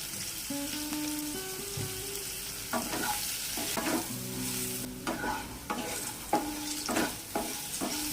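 Spices including turmeric powder sizzle and get stirred in a frying pan with potatoes, with soft scraping strokes over a steady frying hiss and a few short tonal clinks.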